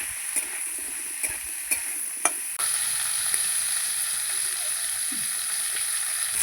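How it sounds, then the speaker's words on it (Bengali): Cauliflower florets frying with a little salt and turmeric in a pan for a vegetable dal, a steady close sizzle with a few sharp stirring clicks and scrapes early on. "কপিটা আমি লাল লাল করে ভালো করে ভেজে নেবো"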